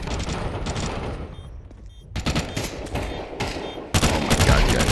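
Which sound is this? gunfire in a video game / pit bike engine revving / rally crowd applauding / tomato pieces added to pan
gunfire in a video game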